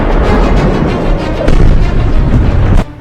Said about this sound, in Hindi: ईरान और इजराइल की जमीन धमाकों से धधक रही